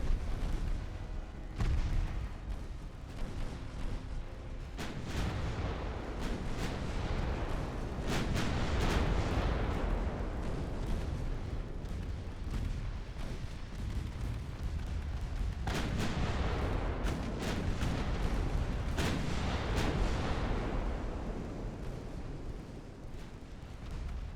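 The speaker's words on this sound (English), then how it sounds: "I want all the main guns shooting you." Warship main guns fire in Ultimate Admiral Dreadnoughts, a steady barrage of deep booming salvos with sharp cracks overlapping one another, loud and continuous with no talk.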